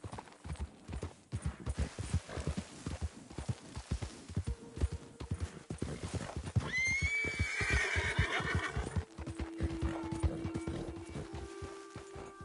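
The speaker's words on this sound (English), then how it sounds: "That's a fine horse you got there." A horse in the Western video game Red Dead Redemption 2 walks with a steady clip-clop of hooves, then lets out a loud, drawn-out whinny midway, followed by quieter hoof steps and tonal game sounds.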